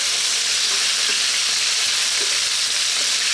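Pork liver and browned garlic stirred together in a frying pan give a steady, close sizzle throughout, with faint scraping from the stirring and no voices.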